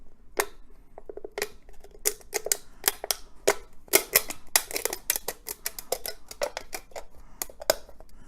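Thin metal can torn along a score line while making a penny stove, a close run of sharp irregular clicks and crackles as the metal splits, fairly faint with no talk.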